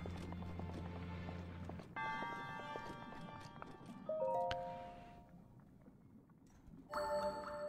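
In the Breath of the Wild video game, a horse's hooves clip-clop in a quick, regular gait, joined by chime-like game tones and a brief whinny-like sound, all fairly quiet.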